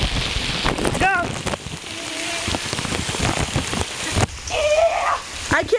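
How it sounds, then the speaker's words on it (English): Heavy rain pours outside as a constant loud wash with gusty wind noise on the microphone, while people shout and talk over it and brief squeaky sounds break through. "Oh my god, it's pouring!"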